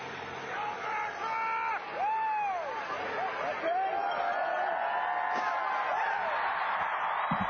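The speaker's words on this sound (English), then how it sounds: "And the crowd goes wild." A crowd at a freestyle skiing aerials World Cup final in Lake Placid cheers, whoops and whistles from a distance, with rising and falling shouts spread across several seconds and a commentator talking over it.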